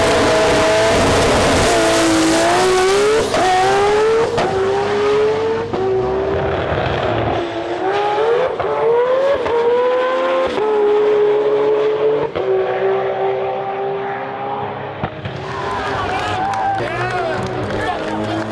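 A manual Nissan GT-R race car, Adrian Portelli's car built by Croydon Racing Developments, screams past at a GT-R festival in Australia, its engine note rising and falling through gear changes over a crowd, with talk over the top.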